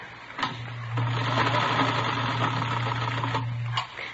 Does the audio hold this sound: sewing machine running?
yes